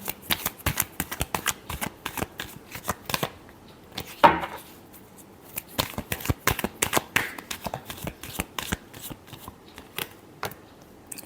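A deck of tarot cards is shuffled by hand in quick, repeated riffles and flutters that come in close bursts, with one louder slap of cards near the middle.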